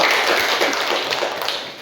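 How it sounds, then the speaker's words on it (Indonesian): A classroom of students clapping for a presenting group, a short burst of close, dense hand claps that fades slightly toward the end. "tepuk tangan buat kelompok"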